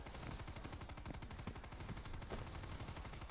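Rapid continuous gunfire in the Dead Ops Arcade zombie video game rattles on without pause, a dense, loud stream of shots with no talking.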